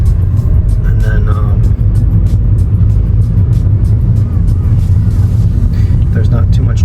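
Road traffic of cars rolling by on a street near a Bluffton, South Carolina townhouse, a continuous low rumble of engines and tires filling the whole stretch, with a voice talking over it.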